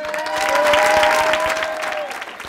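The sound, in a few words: audience applause for Nacer Zorgani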